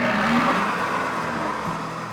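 A car engine revs steadily during a black smoke emissions test at a vehicle inspection, a continuous loud drone holding for the whole stretch with no talk over it.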